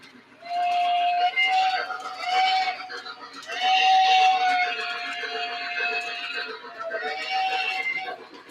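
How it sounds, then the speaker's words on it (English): A model train engine fitted with a small Banshee whistle sounds repeated sustained whistle blasts, moderately loud and close, over a low running rumble while people talk. "Yeah, I love this engine. It's got the little Banshee whistle."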